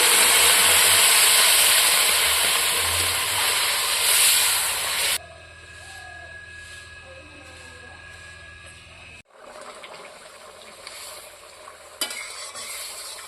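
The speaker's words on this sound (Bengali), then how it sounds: "ঝোল ফুটে গেছে" Bengali fish curry gravy with potato and eggplant boils hard in a pot, a loud, dense bubbling hiss for about five seconds before dropping to a much quieter simmer.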